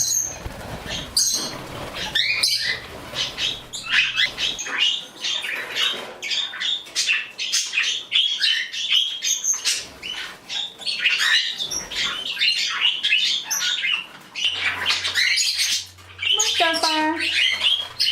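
Parakeets in an indoor bird room chirp and squawk constantly in a busy, overlapping chorus, with wing flutters and soft pattering as the flock flies around together, close and fairly loud.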